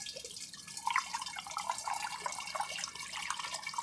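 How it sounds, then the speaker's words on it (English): Mango habanero mead must is poured into a fermenter, liquid trickling and splashing with small drips in a steady stream, close and moderately quiet. "Now I'm going to pour my must over that and see where it ends up."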